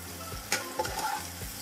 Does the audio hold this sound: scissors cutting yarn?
no